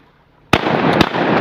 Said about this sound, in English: Better shoot that one, boys.